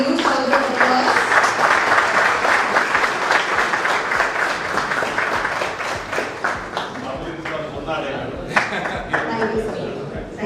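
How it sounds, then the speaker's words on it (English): An audience applauds at a cyber security session, with steady, dense clapping that stays loud throughout and then slowly thins out toward the end. "I said a huge round of applause."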